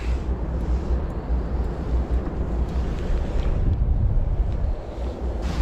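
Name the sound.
wind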